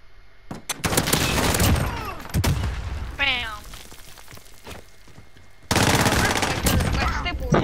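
Gunfire in Call of Duty: Modern Warfare, dense bursts of shots and impacts running through most of the stretch and breaking off briefly, with players talking over it.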